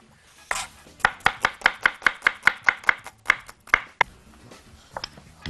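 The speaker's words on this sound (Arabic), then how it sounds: "خرط لهم شويه بصل، بصله مفرومه" A knife chops an onion on a cutting board for a chicken kofta maqluba, making a run of about a dozen quick, evenly spaced crisp thuds, then a pause and a few scattered cuts, close and alone.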